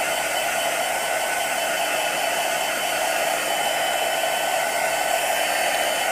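A heat gun blows steadily while drying gesso on a chipboard journal cover, a constant, even hiss of rushing air at moderate loudness with no pauses and no speech.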